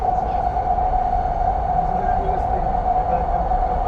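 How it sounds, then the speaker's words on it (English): Steady rumble and hum inside a Vancouver SkyTrain car during a ride, with a constant tonal drone and low rolling noise throughout, continuous and close. "We're just riding on the SkyTrain right now."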